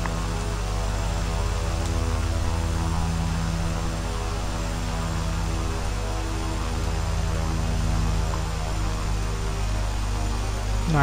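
A Cessna Caravan's propeller engine drones steadily and evenly in a Microsoft Flight Simulator X flight, a constant simulated cabin hum with no change in pitch.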